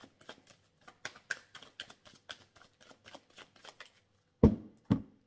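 Tarot cards being shuffled by hand before a reading, a quick run of soft papery riffles and flicks followed by two louder slaps as the deck is squared or set down, close and quiet with no talking.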